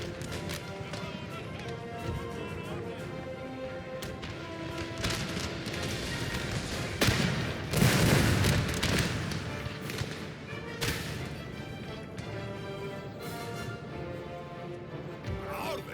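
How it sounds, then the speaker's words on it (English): Cannon artillery fire on a Napoleonic battlefield in Napoleon: Total War, with a dense, continuous rumble of booming shots and thuds that peaks in a heavy barrage midway and recurs in scattered blasts. "Having cannons on the front lines is great, apart from the fact they're so bloody delicate."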